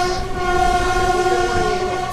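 A Padmavati Express with LHB coaches pulls into platform 2 at Nellore railway station, a loud, sustained horn tone droning over the low rumble of the train.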